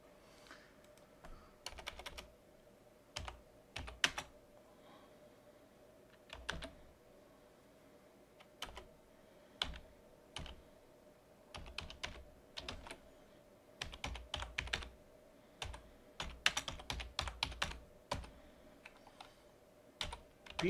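Keys on a computer keyboard clatter in irregular bursts of typing while a Python function is written, with short pauses between runs of keystrokes, close and fairly quiet.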